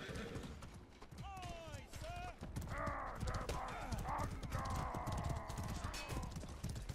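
In the medieval combat video game Mordhau, horse hooves clip-clop rapidly amid battle clamor, with shrill whinnies rising near the start, while players chatter over the sustained noise.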